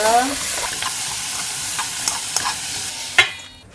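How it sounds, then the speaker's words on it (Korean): Paprika with a pinch of salt stir-fried over high heat in a pan for japchae, giving a continuous soft sizzle with scraping stirs and a sharp clack of a utensil near the end, close and fairly loud. "그다음에 파프리카 소금 이렇게 한 꼬지 정도만 넣어서 볶겠습니다"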